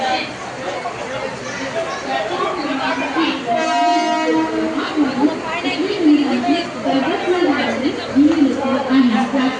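A passenger train from Sangameshwar to Diva rumbles and clatters steadily while people chatter nearby, and a brief horn-like tone sounds partway through.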